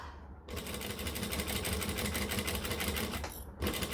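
A sewing machine stitches piping in place with a basting seam, running as a steady, close mechanical whir that starts after a short pause and dips briefly near the end before resuming.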